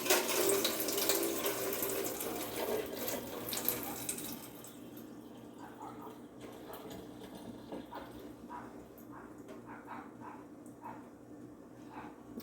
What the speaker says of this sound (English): our bean curd is soaked and it's soft. I'm gonna go ahead and drain it.